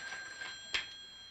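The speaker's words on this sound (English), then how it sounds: "That's our phone." Telephone bell ringing in a quiet home, steady high-pitched tones through the whole moment with a brief louder burst near the end, no talk over it.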